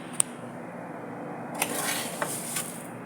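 Coffee being stirred in a cup, the spoon giving a few sharp clinks against the sides and then a soft, scraping swirl, close and quiet with no talking.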